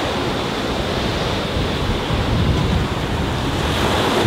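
Sea waves wash steadily below a hotel terrace overlooking the sea at Copa Panwa in Thailand, a constant broad roar of surf mixed with wind buffeting the microphone.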